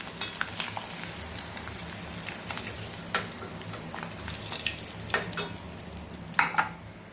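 Eggs sizzling in a pan on a stove at steady moderate volume, with scattered crackles and a few louder pops and spatters; no voices.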